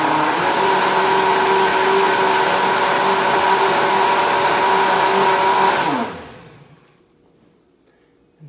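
A kitchen blender whirs loudly and steadily for about six seconds at a raised speed, then winds down and stops, leaving near silence.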